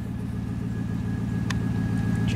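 A car engine idles close by after being fired up. It holds a steady, even low rumble throughout, with one brief faint click partway through and no voices.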